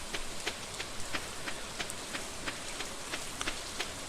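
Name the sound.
rain falling in the video game Stardew Valley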